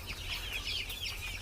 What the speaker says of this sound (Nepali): यिनी सर 17 दिनका चल्ला भइसकेछन्